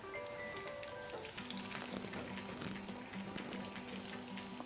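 Fish cutlets shallow-fry in oil over moderate heat, giving a soft, continuous crackling sizzle with scattered pops, faint and steady beneath quiet tonal background music.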